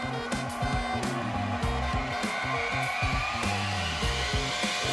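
A Bucktool 8-inch bench grinder running at high speed with slightly wobbly stones, making a steady motor whine and hum with a pulsing, rhythmic flutter, close and continuous.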